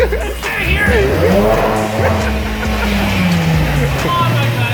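Single-turbo car engine revs hard and climbs steadily in pitch, loud and nearby, with people talking and cheering underneath.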